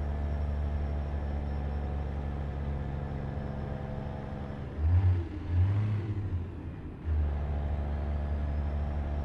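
A heavy truck engine in American Truck Simulator, a Kenworth hauling uphill, drones steadily at low pitch, then revs up in two brief surges, drops away briefly and settles back into its steady hum.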